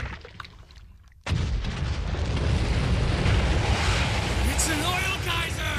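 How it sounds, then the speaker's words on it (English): An oil geyser erupts in an animated film with a sudden loud blast, then a sustained, heavy roaring rush that fills everything and keeps going without letting up. "It's an oil geyser!"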